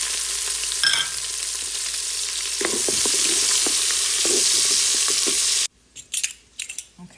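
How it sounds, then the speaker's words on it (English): Onions and peppers hitting a pan of well-browned bacon, a loud continuous sizzle with scattered pops and stirring scrapes, cutting off abruptly into a few quieter clatters near the end. "the bacon is really browned really well, and I'm going to put in half a cup of onions and pepper mixture"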